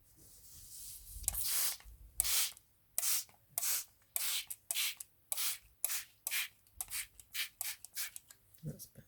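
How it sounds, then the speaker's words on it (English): A spray bottle is pumped over and over in quick, even bursts, each a short hiss of water misting onto card, close by with a few brief pauses. "I'm going to spray card, a bit of water."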